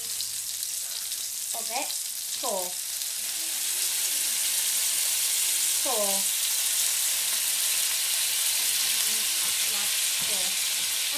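Meatballs browning in a frying pan give a steady, loud sizzle and hiss that fills the whole clip, while a person talks briefly over it.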